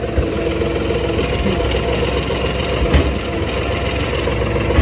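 A John Deere tractor engine runs steadily at close range, a continuous low, rumbling drone with mechanical knocking and vibration while the tractor strains to lift a loaded trolley on a farm.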